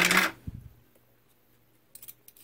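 A brief metallic snipping clatter after a soft rustle, then quiet with a few faint clicks of small scissors being handled close by.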